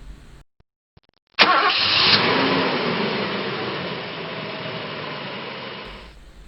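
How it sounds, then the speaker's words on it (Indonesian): A car engine cranks and catches with a loud burst, then settles into a steady idle that slowly fades near the end. "Dia pun menyalakan mobil dan segera bersiap untuk pulang."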